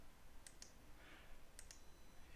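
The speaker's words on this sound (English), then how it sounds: "you can do that by clicking this." Two pairs of sharp computer mouse clicks, one pair near the start and one later, quiet and close against a faint background hiss, while a handweaving drafting program is in use.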